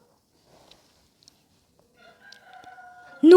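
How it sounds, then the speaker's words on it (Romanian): A rooster crows in a horror-themed survival video game: a drawn-out, wavering tonal call rises near the end and breaks into a sudden loud burst that is cut off abruptly, with no talking over it. "Un cocoșu."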